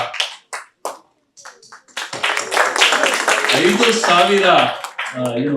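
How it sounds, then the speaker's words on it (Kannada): An audience breaks into loud, sustained clapping after a few isolated taps, with voices mixed in under the applause. "ದಯಮಾಡಿ ಎಲ್ಲರೂ ಚಪ್ಪಾಳೆ ತಟ್ಟಬೇಕು ಅವರಿಗೆ"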